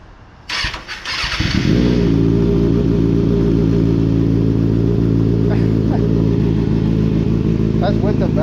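A 2024 Kawasaki ZX6R fitted with an M4 exhaust and baffle cranks over after a few clicks and rustles, catches, and settles into a loud, steady idle close by, with brief voices in the background.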